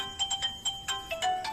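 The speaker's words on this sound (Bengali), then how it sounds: "কি গো, ফোন আসছে," A mobile phone ringtone sounds for an incoming call, a quick run of short, bright electronic chime notes, fairly close and clear with no talking over it.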